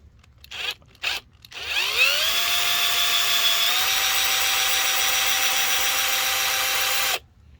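A power drill starts after a few short bursts, then runs with a steady, loud whine for several seconds before cutting off abruptly.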